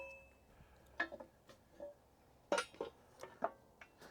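Metal plate being fitted onto a Kioti backhoe thumb, a series of sharp metallic clinks and taps at irregular intervals, quiet and close with near-silent gaps between.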